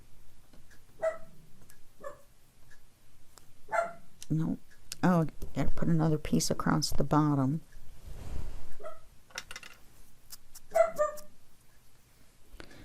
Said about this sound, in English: He has to start barking at some point in every video.